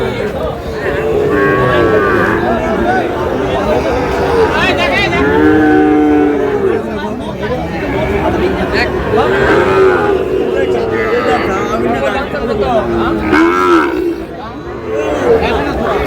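Cattle, including Sahiwal bull calves, moo repeatedly at a livestock market in Dinajpur, long low calls overlapping one another amid a busy crowd with people chattering throughout.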